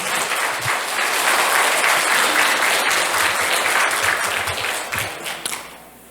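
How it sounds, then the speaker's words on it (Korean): A church parish hall audience applauds to welcome a priest's Advent lecture. The clapping is dense and sustained from a sizeable crowd, then thins out and fades near the end. "신부님 귀중한 말씀 박수로 청해 듣도록 하겠습니다"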